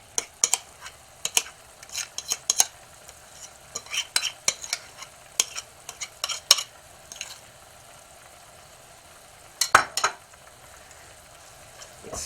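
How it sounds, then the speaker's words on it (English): A spoon scrapes and clacks against a pan, stirring a creamy tomato sauce with smoked oyster and chorizo. The sharp strokes come in irregular bursts with pauses, close and clear over a faint low sizzle, no talking. "stir it in there so it doesn't stick"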